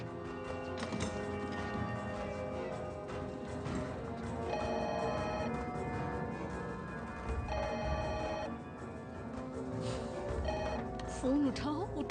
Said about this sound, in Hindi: फोन क्यों नहीं उठाते तुम?